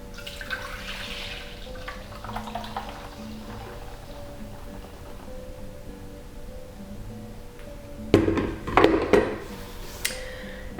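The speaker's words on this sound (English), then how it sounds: "So we're going to pour the mixture into our ultrasonic machine." Vitamin C mixture poured into an ultrasonic machine: a soft trickle and splashy pour near the end, with clinks of a container, following a quieter stretch of faint handling and low machine hum.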